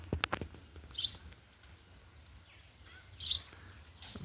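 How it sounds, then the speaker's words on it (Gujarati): Two parrots give sharp, high chirps, a single call near the start and another a couple of seconds later, fairly close against a quiet background. "જોરિયા બે પોપટ છે"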